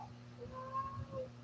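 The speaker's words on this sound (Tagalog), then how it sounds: "pati pusa, sabi ng pusa, oh." A cat gives a soft, faint meow against a quiet background hum, brief and slightly drawn out.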